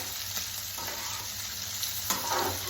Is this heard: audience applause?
no